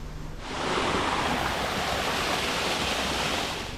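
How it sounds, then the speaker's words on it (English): Rushing water from a waterfall on a mountain hike, a steady broadband roar that swells in after a brief quiet start and holds loud and continuous, with no voices over it. "Whoa, look at that waterfall."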